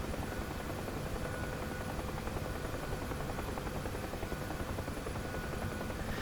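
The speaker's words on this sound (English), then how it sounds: "this is where I come to actually fly the Huey as realistic as it possibly can be" UH-1H Huey helicopter in the DCS World flight simulator, its rotor and turbine giving a steady, dense, loud drone with a rapid blade chop that holds unchanged throughout, no voices present.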